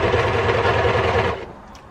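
Overlocker sewing machine running fast right after rethreading, a loud close rapid mechanical chatter for over a second before abruptly stopping.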